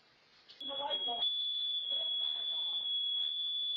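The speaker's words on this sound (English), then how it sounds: "The alarm goes off." A home alarm starts with a sudden onset and holds a piercing, continuous high-pitched tone while people talk over it.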